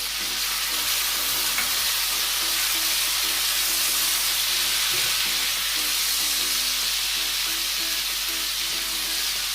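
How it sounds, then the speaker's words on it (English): Shrimp cooking in garlic butter sauce with lemon juice over medium heat, a dense, even sizzle that holds steady and close for the whole stretch with no voices. "my heat is now on medium, because my shrimp is nice to cook, as well as I'm going in with my lemon juice"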